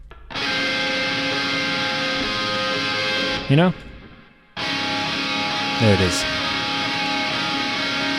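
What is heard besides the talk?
distorted electric guitar sus chord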